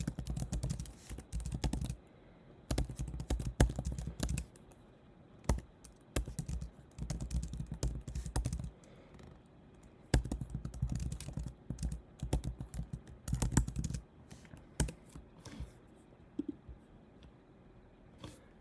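Typing on a computer keyboard, heard as quiet, close key clicks in irregular bursts and runs separated by short pauses, with no talking.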